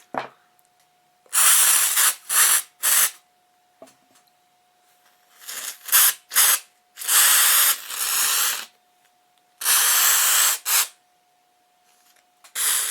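An aerosol can of artificial snow sprays in a series of sharp hissing bursts, some short and some held for about a second, with quiet gaps between and a faint steady hum underneath.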